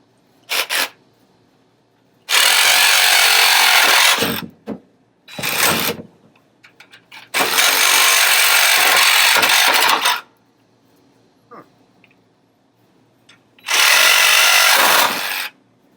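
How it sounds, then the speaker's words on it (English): Sawzall reciprocating saw cutting through a fuel line during front suspension disassembly on a 1962 Cadillac, heard as three loud close bursts of harsh buzzing, with brief clicks and shorter spurts between them. "Time to get the Sawzall."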